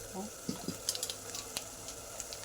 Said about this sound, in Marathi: इथे मसाला भाजत आलेला आहे